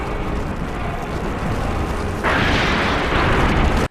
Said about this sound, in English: I was going to say, what kind of bomb was that?